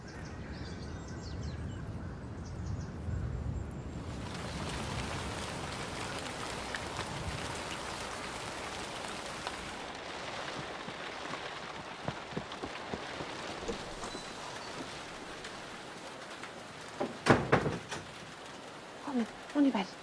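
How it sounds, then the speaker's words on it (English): Rain begins falling in a garden, a soft continuous patter on surfaces with a few louder knocks and thumps near the end. "Oh gosh, this is starting to rain"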